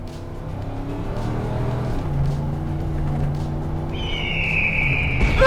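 A Ford Lightning pickup truck's 5.8-liter V8 accelerates with a steady engine roar that builds and grows louder toward the end, heard alone without talking.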